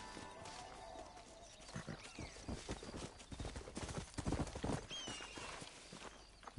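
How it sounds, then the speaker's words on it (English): Horse hooves clip-clop steadily across the ground in Red Dead Redemption 2, a run of close, distinct hoofbeats with a faint whinny and soft game ambience underneath. "Oh, my horse is here."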